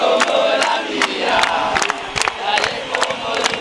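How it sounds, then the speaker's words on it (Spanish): Football supporters of LDU at a stadium match chanting a song in honor of mothers, a dense crowd roar with rhythmic sharp accents, loud and continuous throughout. "con ese maravilloso y emotivo cántico de la hinchada"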